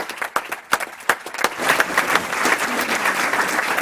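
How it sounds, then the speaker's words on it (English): An audience at a school board meeting claps, starting with a few scattered sharp claps and swelling into dense applause. "Let's give them one more round of applause."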